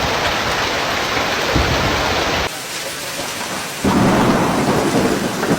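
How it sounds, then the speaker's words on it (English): Intense hailstorm in Cardston, southern Alberta, with heavy downpour and fierce wind, a dense continuous roar of hail and rain that dips briefly and then surges back, loud and close throughout. "the town was hit by an unprecedented, intense hailstorm, accompanied by heavy downpours and fierce winds."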